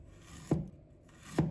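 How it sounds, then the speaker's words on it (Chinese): A knife slicing fresh ginger on a cutting board gives two quiet, separate chopping knocks about a second apart, with near silence between them. "准备一块生姜，把它切成片"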